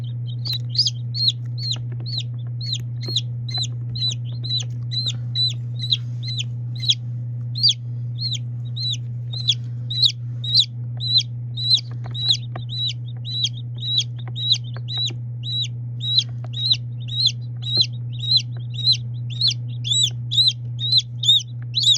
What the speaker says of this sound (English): Those chicks are only a couple weeks old.